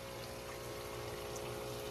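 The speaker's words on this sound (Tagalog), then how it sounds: "Nilagay ko dahil para mas marami yung flow ng tubig dito" Water pumps and splashes steadily through the filter of a koi tank in an indoor fish room, a continuous flowing wash with a low mechanical hum, unbroken and fairly quiet.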